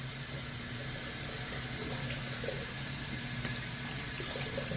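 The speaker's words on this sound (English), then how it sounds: "Let's get some cold water on the" Cold tap water runs steadily into a bathroom sink during a wet shave, a constant close hiss and splash that continues unbroken with no talking.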